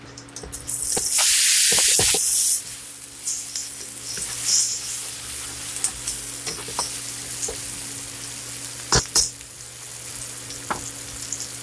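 Veal and shrimp hit hot oil in a seasoned wok with a loud initial burst of sizzling, then settle into a steady frying crackle with occasional clinks and stirring scrapes, close and without talk.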